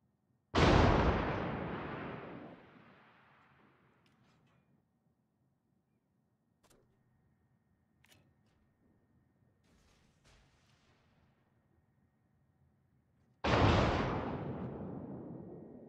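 Naval artillery fires on a designated target, two heavy booming blasts with long decaying rumbles separated by a quiet gap holding only faint clicks and ticks, loud and alone.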